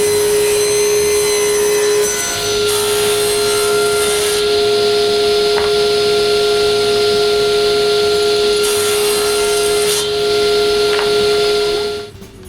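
A power tool cuts wooden corner blocks for a six-drawer dresser, running as a loud, steady high whine with a bright tonal hum throughout, easing off only at the very end.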